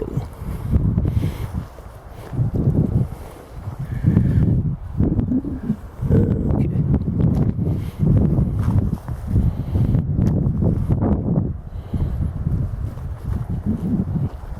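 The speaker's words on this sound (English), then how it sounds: "You're going to hear a lot of wind probably today." Wind blows outdoors during shark tooth hunting in Marion, South Carolina, producing a loud, continuous low rumble and buffeting against the microphone that surges and eases over about fifteen seconds.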